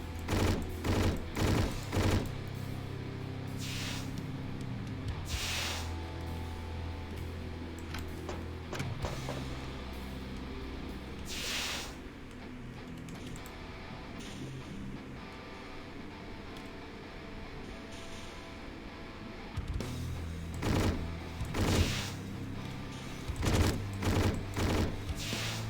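Gunfire from the Hedon Bloodrite video game, with loud rapid volleys of shots at the start and again near the end, set over a steady game soundtrack.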